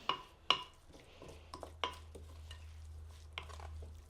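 A spoon scrapes and clinks against a bowl as marinade ingredients for portobello mushroom steaks are mixed, with several sharp taps and wet sloshing in an irregular rhythm, close and fairly quiet.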